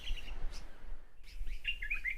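Several water birds, kingfishers among them, chirp in quick bright bursts, with a clear run of high tweets near the end over steady low outdoor rumble in a national park's hills.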